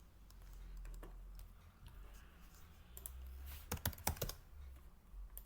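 Soft, scattered keystrokes on a computer keyboard, building into a quick, louder cluster of clicks toward the end, close and quiet with no talking.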